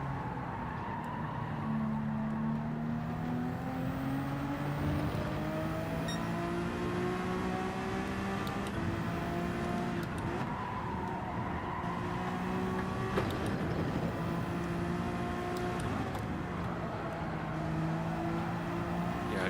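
Race car engines in the Gran Turismo video game, several engines droning and shifting pitch together in a continuous rising and falling whine, moderately loud with no talking.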